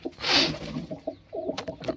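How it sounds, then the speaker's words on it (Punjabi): Domestic pigeons coo from a loft, low throaty calls repeating in short bursts close by, with a louder burst of noise near the start. "ਬਾਕੀ ਬੈਠੇ ਆ ਕਬੂਤਰ"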